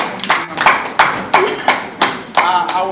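Audience clapping at a 54th birthday celebration for a Nollywood actor, sharp claps in a regular rhythm of roughly three per second, loud and close, with faint voices underneath.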